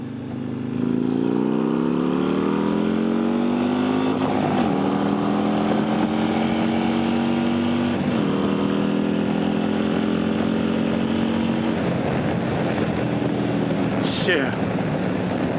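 A 2021 Harley-Davidson Road Glide motorcycle rides with its engine note rising through a long steady pull, the pitch climbing repeatedly between shifts. The engine is loud and close against constant wind roar, with a short sharp spike near the end.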